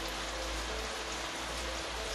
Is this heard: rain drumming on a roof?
yes